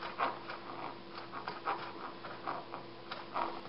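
Quick, rhythmic panting from dogs nearby, breathy puffs repeating steadily with a faint background hum.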